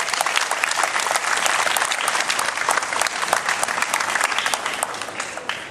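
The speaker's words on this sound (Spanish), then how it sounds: "un aplauso a nuestro presidente" Dense, sustained applause from a crowd at a municipal party office event in Acapulco, many hands clapping loudly and steadily throughout with no break.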